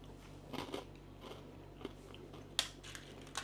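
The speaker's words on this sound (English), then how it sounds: "Ooh, they got a nice crunch to them." Someone bites and chews crunchy chocolate balls eaten alone, beside yogurt, giving irregular close crisp crunches and crackles over a quiet background with no talking.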